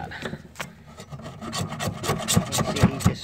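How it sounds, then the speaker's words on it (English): A pry bar scrapes old sealant off a roof plumbing and heating flashing. The scraping is loud, close and gritty, with repeated rasping strokes and a few harder scrapes near the end. "Scraping it off."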